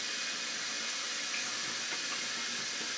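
Tap water running into a sink while meat is rinsed to remove fat, a steady close hissing rush that holds evenly for the whole stretch, with no talking.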